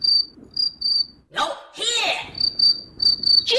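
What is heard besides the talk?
cricket chirping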